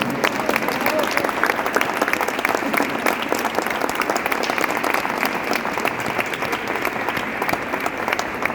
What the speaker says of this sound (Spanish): para el que pida un aplauso inmenso, por favor